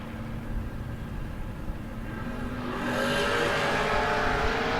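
Pro Torque S10 drag race cars at a No-Box 660 Shootout roar at the line, then the engine note rises sharply as they launch and accelerate hard down the track, loud and close.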